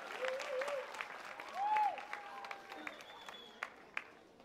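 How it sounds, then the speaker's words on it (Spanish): At a youth orchestra and choir concert in Chile, the audience gives scattered, sparse applause, with a few whistles and cheers rising over the claps at moderate distance. "Aplaudan, ¿no?"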